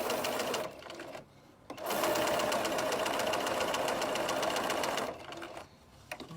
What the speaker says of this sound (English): I'm going to sew the other one again using a 1/4 inch